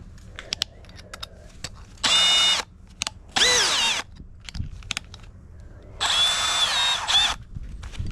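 A power drill bores a pilot hole in a house wall for a generator inlet box, in three loud sustained bursts of a few seconds each with short pauses, clicks and handling noises between them.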